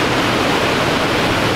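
A waterfall in Peneda-Gerês National Park, Portugal, roars as a loud, continuous broadband rush of falling water, close and unbroken for the whole short stretch.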